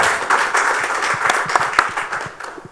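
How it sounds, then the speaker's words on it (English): Audience applause welcoming a speaker at a corporate AI governance event at Dusit Thani, a short burst of scattered, moderately loud clapping from a small crowd that thins toward the end. "Round of applause and welcome to Andreas."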